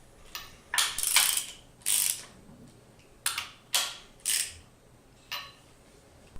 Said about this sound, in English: Use a ratchet with a 17mm socket and alternate between the 2 bolts to evenly lower the inner cover into place.